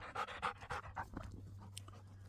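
A dog pants rapidly and close up for about a second, a quick rhythmic series of breaths that then fades into quiet.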